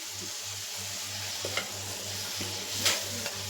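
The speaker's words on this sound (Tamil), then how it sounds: "இந்த ஸ்டேஜில் நான் அவிச்சு வச்சுருக்கிற கறியை போட்டுக்க போகிறேன்" Boiled meat tossed into hot spiced oil in a pan, giving a steady sizzle and fry with a few clicks of stirring against the pan, alone with no talk.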